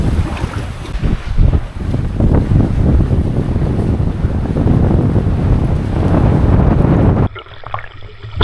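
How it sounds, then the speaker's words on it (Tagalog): Strong wind buffets the microphone in heavy, continuous gusts, with a boat and splashing water beneath, then cuts to a quieter moment. "Lakas ang hangin."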